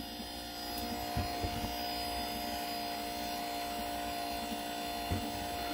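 A 12V wiper motor runs straight off a battery, driving the crank of a homemade electric bike: a steady, close electrical hum with a few faint mechanical ticks across the whole stretch.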